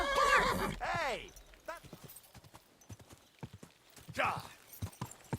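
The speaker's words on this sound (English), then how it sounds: "I am stealing this guy's freaking horse." In the medieval game Kingdom Come: Deliverance II, a horse gives a loud close neigh and whinny, followed by a quick run of hoof clip-clops, while someone talks briefly over it.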